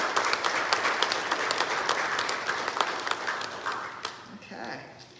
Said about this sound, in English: let's have some applause for these two who served